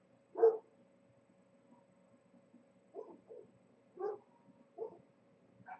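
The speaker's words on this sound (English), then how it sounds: "the neighbor dogs are going haywire" Neighborhood dogs bark in short separate bursts, a couple of loud close yaps followed by several more spaced barks over a steady low hum, with no talking.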